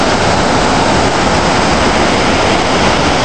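Marmore Falls, a large waterfall, roars as a loud, steady wash of rushing water that fills the whole clip with no pauses.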